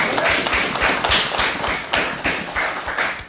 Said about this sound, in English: That deserves many applause.